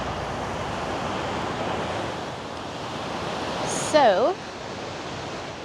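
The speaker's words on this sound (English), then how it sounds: "be careful, there's rushing water" Water rushes below a dam in Merrickville, Ontario, making a steady, loud broadband roar. A person speaks briefly over it, and a short chirping tone cuts in near the end.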